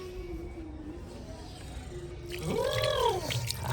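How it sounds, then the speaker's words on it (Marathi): Water running from a tap at a temple in Mahabaleshwar as hands are washed in cold water, a close trickling and splashing that grows louder midway, with faint voices in the background. "हात धुतोय ठंडे ठंड पाणी हात"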